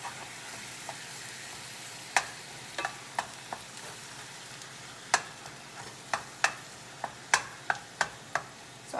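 Ground beef and onion fry in a pan with a constant sizzle, while a utensil stirs and scrapes in sharp, regular clacks that come faster in the second half.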